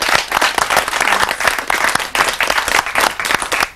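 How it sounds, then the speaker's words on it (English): Studio audience gives a loud, sustained round of applause for a psychic medium, dense clapping carrying on with no voices over it. "I think you deserve a big round of applause for that."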